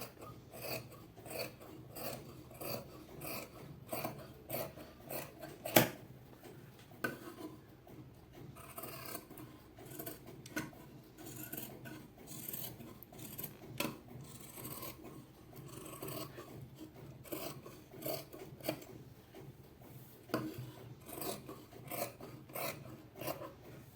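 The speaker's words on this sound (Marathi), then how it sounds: "बघा आता आपल्याला घ्यायचं आहे कटिंग करून" Scissors cut through blouse fabric in a steady run of soft, close rasping snips that continue almost without pause, quiet overall with one sharper click partway through and no talking.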